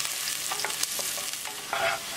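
Onion, ginger and garlic tadka for chana dal sizzles in a pan while a spoon stirs it, giving a soft frying hiss broken by several quick scraping strokes, close and fairly quiet.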